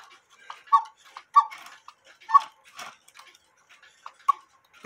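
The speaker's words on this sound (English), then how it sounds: "Here's a German quarter hour cuckoo clock." A German quarter-hour cuckoo clock ticks up close in a steady, even rhythm of crisp mechanical clicks, alone in an otherwise quiet room.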